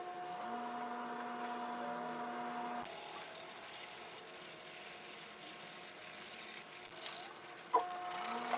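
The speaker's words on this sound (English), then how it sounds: "I finally finished sanding the crown" Steady rubbing and scraping of sandpaper against a DIY crown prop, close and continuous, with a faint background hum.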